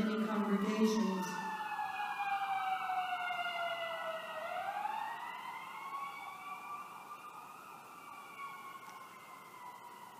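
An emergency vehicle siren wails and sweeps in pitch as it passes outside during a Sunday church worship service, heard fairly far off and slowly fading.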